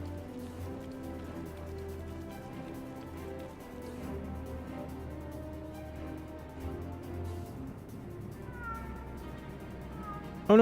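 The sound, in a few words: cat meowing in Final Fantasy XIV video game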